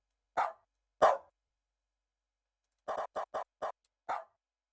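Dog bark samples played on a dog piano: two single barks a beat apart, a pause, then a quick rhythmic run of six short barks and one final bark, clear and close.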